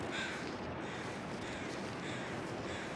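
Crows cawing in the wilderness survival video game The Long Dark, faint and distant against a steady bed of windy outdoor noise.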